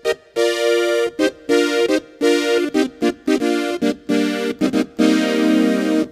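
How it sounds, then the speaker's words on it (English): Oberheim-style polyphonic synth chords played on an Sk Pro keyboard, a series of bright, rich sustained chord stabs in a choppy rhythm with brief gaps between them, loud and close with no talking. "like kind of Oberheim type sounds like this."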